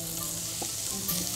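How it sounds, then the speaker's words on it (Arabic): Halloumi cheese pieces sizzling on a hot grill pan, a steady close crackling hiss with a soft tap or two as the pieces settle. "بقطع الجبنة بتاعتي"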